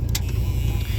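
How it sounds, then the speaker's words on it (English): A Mercury car engine with cam problems idles roughly, a loud low rumble with uneven throbbing pulses across a brief stretch, heard up close with no talk. "even though it is idling like this"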